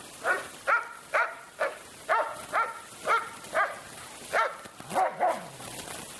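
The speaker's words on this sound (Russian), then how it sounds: "Надо на воробьев лаять," A dog barks at sparrows outdoors, about a dozen sharp, moderately distant barks in an uneven rhythm with short gaps, ending with a whiny yelp.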